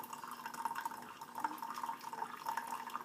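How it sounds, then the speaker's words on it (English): Hot water poured slowly from a tea kettle over coffee grounds, a faint, steady trickle with light dripping, close by and alone. "Now if you fill your tea kettle up, you'll increase your chances of making sure that you slowly pour over the entire time period."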